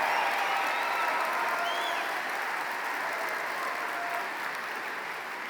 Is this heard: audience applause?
yes